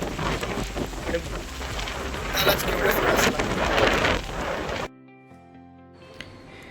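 Rain in a Konkan village during May, a dense steady downpour with gusty swells that stops abruptly, leaving only faint background tones.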